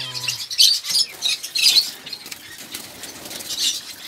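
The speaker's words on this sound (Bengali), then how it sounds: "এখানে জায়ান্ট ফিঞ্চ আছে অ্যাডাল্ট ব্রিডিং পেয়ার সব" Giant finches in a breeding aviary flap their wings in several quick, close bursts, separated by soft rustling and light fluttering.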